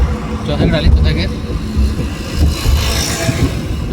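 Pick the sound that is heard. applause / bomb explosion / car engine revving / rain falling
car engine revving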